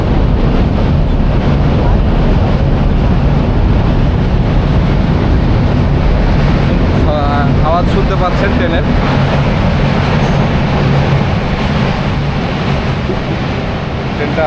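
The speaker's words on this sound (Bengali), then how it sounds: "এই ট্রেন যাচ্ছে দেখো" Heavy rumbling of a train rolling past on the Hardinge Bridge in Bangladesh, loud and continuous, with strong wind buffeting the microphone and a voice speaking over it.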